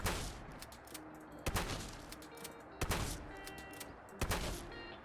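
A Winchester shotgun blasts a Deathclaw in Fallout 4, with four loud, close, evenly spaced heavy booms and smaller impact cracks between them.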